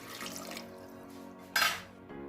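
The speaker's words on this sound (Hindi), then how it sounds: "थोड़ा सा इसमें पानी डालेंगे" Water splashes and runs briefly into a container amid light kitchen clatter, with a louder gush near the end.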